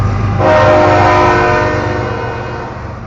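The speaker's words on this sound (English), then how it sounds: "Another train." A train rumbles past close by as its horn blares a sustained, loud chord that slowly fades while the wheels keep rolling, near the Painesville Railroad Museum.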